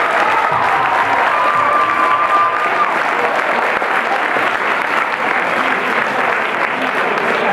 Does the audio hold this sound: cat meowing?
no